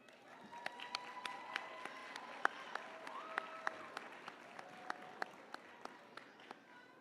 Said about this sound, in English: Please, another round of applause for Mr. Philip Smith.